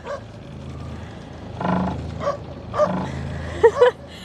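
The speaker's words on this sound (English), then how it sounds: "That dog's unhappy." Unhappy dog whimpering and giving short yipping barks, several close bursts growing louder toward the end over a quiet room background.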